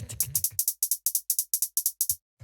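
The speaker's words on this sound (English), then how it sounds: "So what we got here is we've got an 808 hi-hat doing the..." A crisp, clipped 808 hi-hat ticks in quick steady pairs through a deep minimal house pattern, its short bright hits repeating evenly after a brief low murmur at the start.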